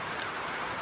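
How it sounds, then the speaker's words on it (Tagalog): Heavy rain pouring during a rainy spell, a steady dense hiss of drops hitting surfaces with no pauses, fairly loud and close, with no voices over it. "At lakas talaga ng ulan"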